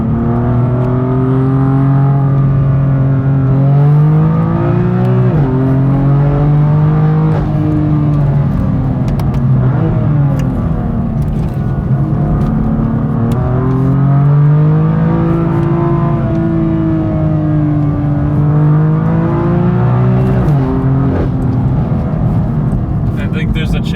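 A 2016 BMW M4 GTS pulls hard along a curvy road, its engine note rising and falling steadily through gear changes and throttle shifts, loud and continuous inside the car throughout, with no talking.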